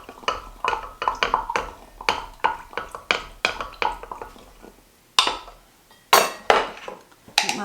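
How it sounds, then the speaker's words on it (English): A spoon clinks against the inside of a jar while kefir water is stirred, giving a quick run of bright, close metal-on-glass taps with short pauses and a few louder strikes near the end. "Stir it all up"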